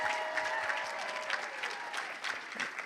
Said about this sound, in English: How about a big round of applause for Justin and Judy,